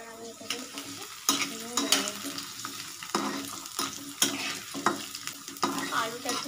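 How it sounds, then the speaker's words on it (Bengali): Potatoes fry in a pan for ghugni chaat, a soft sizzle broken by sharp, irregular scraping strokes of a stirring spoon, close-up and fairly quiet, with no voices. "আলুটা একটু ভাজা ভাজা হোক।"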